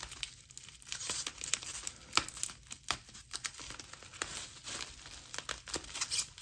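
Rustling and tearing of a plastic pack as a basketball trading card is tugged free, a run of close, crinkly scrapes and pulls in irregular bursts, with nobody speaking.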